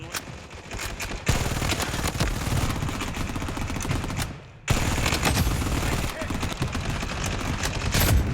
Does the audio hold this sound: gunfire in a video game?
yes